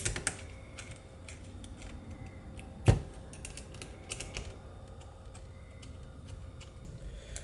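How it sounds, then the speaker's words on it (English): Small metal bolts on a TIAL blow off valve being snugged up in a star pattern give faint ticking and clicking, with one sharp knock near the middle. "Just gonna tighten up the other ones so that the load is distributed across the 6 bolts."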